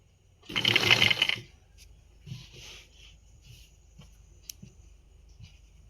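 A sewing machine stitching a pillow cover gives a loud, dense burst of mechanical whirring for about a second, followed by faint scattered ticks and light handling clicks.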